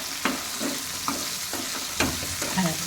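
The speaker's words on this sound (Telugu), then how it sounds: "బాగా కలుపుతూ ఉండాలి." Okra fried with onions and garlic, Rayalaseema style, sizzles steadily in a pan while a spoon scrapes and stirs it in several separate strokes, close and fairly loud, with no voices.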